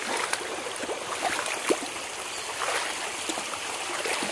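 A river in Suculté, Guatemala, running high with plenty of water, makes a steady rushing and babbling flow that continues without a break and sits close and fairly loud.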